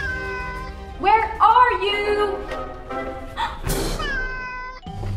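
Kittens meow in a series of rising, wavering cries, several clustered together, then a few more later, close and clear, with a voice speaking between them.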